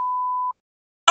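A single steady censor beep tone, close and loud, runs for about half a second over swearing on live TV, then falls silent before a brief burst of voice at the very end.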